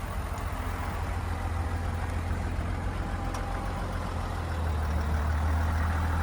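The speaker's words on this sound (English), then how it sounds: "Very quiet, turbo diesel." A 2019-or-later GMC Sierra 1500 Denali 4x4 with the 3.0L inline-six Duramax turbo diesel idles steadily outdoors on a cold day, a constant low hum with a slight rise near the end and no talking.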